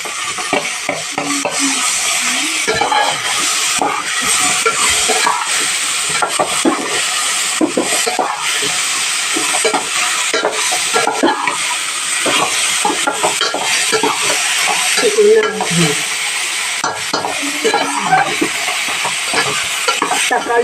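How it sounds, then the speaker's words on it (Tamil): Tomatoes sauté in a hot pan with a loud continuous sizzle while a spoon stirs and scrapes repeatedly against the metal over about twenty seconds, close and busy, with no talking. "தக்காளி நல்லா வதங்கிடும்"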